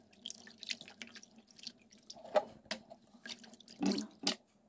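Duck meat being rinsed under a running tap in a kitchen sink, with intermittent splashing and dripping that swell into a few louder bursts of water, close and fairly quiet, with no talking.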